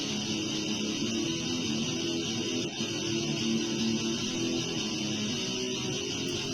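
Distorted electric guitar recorded direct and shaped through digital amp modelling, EQ and a heavy cab simulation, giving a dense, fizzy, sustained wall of tone that stays steady and loud throughout with no voices.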